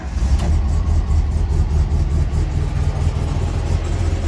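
A 1965 Volkswagen Combi T1 with 13 windows, its engine running at a steady, loud, close idle with an even rumble throughout, no clear start captured.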